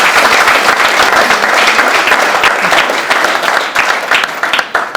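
A hotel conference audience in Belfast breaks into loud, dense applause, many hands clapping together in a sustained round that thins slightly toward the end.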